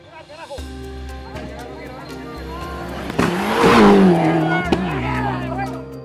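A rally car on a dirt track revs and accelerates, its engine note rising and swelling to a loud peak before easing off, heard under a narrating voice.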